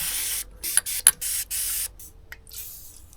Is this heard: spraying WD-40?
yes